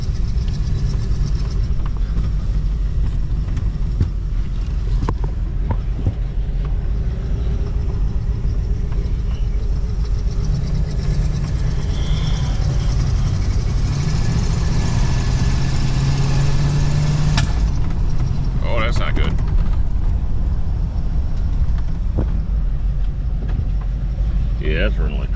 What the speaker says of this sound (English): It's got a misfire now, that's for sure.